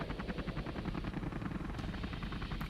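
A Comanche helicopter from C&C Generals thrums with a fast, steady rotor chop, close and loud throughout with no voices.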